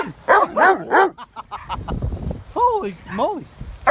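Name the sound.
dog barking after a sneeze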